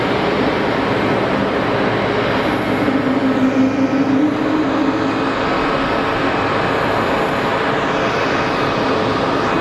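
An aircraft at Geneva Airport gives off a loud, steady engine roar that fills the whole stretch, a broad rushing drone with a slight swell in the middle, heard without any voices.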